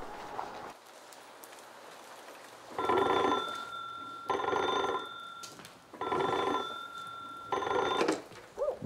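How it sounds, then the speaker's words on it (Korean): An old telephone bell rings at the Daejeon prison during the Korean War, sounding in repeated long bursts separated by short pauses over a faint background hiss. "얼마 후 대전 형무소로 긴급 전화가 걸려온다."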